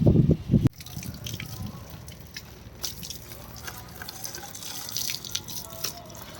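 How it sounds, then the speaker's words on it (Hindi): Water pours onto trees being watered, starting with a loud close splash that stops abruptly, followed by a quieter steady trickle and scattered drips. "और देखिए दे रहे हैं पेड़ों को पानी"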